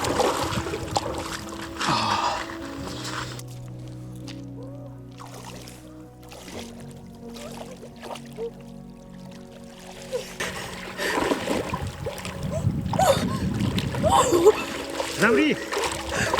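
Splashing from a person wading into icy winter water in Altai, with irregular sloshes and splatters close by, quieter stretches in between, and a voice talking intermittently.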